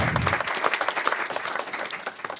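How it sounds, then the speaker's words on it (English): Audience applause at a Congressional Black Caucus Foundation roundtable, a full, even wash of many people clapping at moderate loudness, lasting throughout without speech over it. "would you give Chairman Fattah another very large applause"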